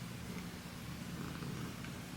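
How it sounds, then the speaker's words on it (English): A kitten purrs close up, a soft continuous low rumble that holds steady and faint throughout with no other sounds. "She's purring so loud."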